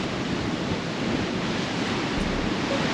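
Steady broadband wind and sea roar on the open deck of the Spirit of Tasmania ferry at sunrise, a continuous loud rush of wind buffeting and surf with no pauses.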